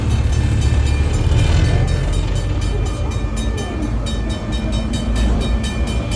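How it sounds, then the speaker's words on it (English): Passenger train riding on the rails, a steady loud rumble and clatter of the wagons with a rhythmic clicking pulse throughout, close and continuous, with no talk. "Alessandro, we're on the train"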